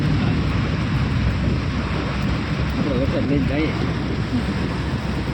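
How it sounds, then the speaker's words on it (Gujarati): Dense, steady roar of heavy rain, loud and close, with a person's voice briefly audible underneath. "કેવો વરસાદ પડે ધબધબાટ"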